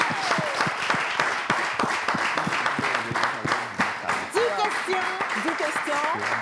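An audience applauds the guests of a live show with brisk, sharp clapping throughout, while voices chatter and call out over it in the second half.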